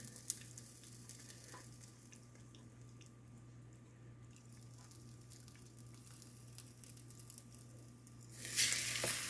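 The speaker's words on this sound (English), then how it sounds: "Good sizzle going on there." French toast cooking in a frying pan gives a faint, steady sizzle that runs continuously with a brief louder rustle near the end, and no talk.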